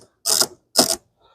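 Two short mechanical ratcheting bursts from a 5/16 nut driver loosening the large hose clamp at the base of a K&N air filter, close and crisp with silence between them.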